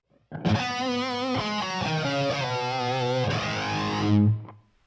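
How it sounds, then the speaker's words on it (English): A POD HD500X running a Van Halen style distorted electric guitar tone with reverb and AC flanger plays a loud unbroken phrase of held, bending notes with a sweeping whoosh, played alone and ending in a swell. "Now with reverb and AC flanger."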